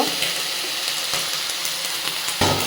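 Washed leafy greens sizzling in a hot pan: a steady, close, crackling hiss with faint stirring, and a louder burst near the end, with no talking.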